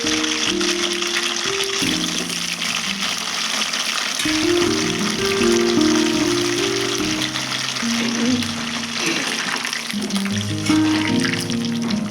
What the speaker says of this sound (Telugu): వంకాయలండి ఫ్రై చేసేసుకుందాం అన్నీ